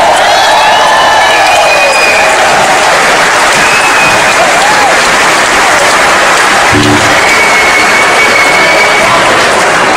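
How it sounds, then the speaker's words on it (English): Concert audience at the Union Chapel in London claps loudly and continuously, a dense, sustained wash of applause with scattered whistles and cheers over it. "will you please show your appreciation for our sound man, Mr. Vivian Casagrande down there."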